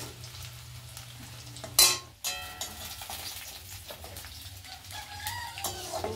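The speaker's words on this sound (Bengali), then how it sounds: "রসুনটা একটু ভাজা ভাজা হবে" Garlic fries in hot oil during village cooking of taro leaves, a soft continuous sizzle with a sharp clatter near the start, scraping stirs and a rooster crowing faintly in the background.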